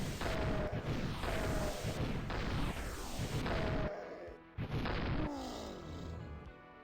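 Rockets fire and explode in the FreeDoom game, a run of loud booming blasts with whooshing launches that come every second or so, heavy and close, with a brief lull before two more blasts.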